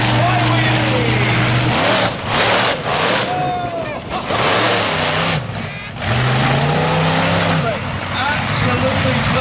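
A monster truck revs hard for a sky wheelie at an outdoor arena, its loud engine rising and falling in repeated surges, close and dominant, with a crowd and an announcer's voice mixed beneath.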